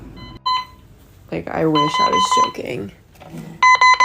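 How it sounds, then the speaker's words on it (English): An alarm clock goes off in a guest room, its harmonic electronic beeps heard in a short burst at the start and again loudly at the end, with a person talking over the quieter middle. "you can hear the alarm in here going off"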